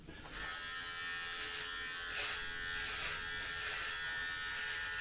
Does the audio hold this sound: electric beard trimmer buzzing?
yes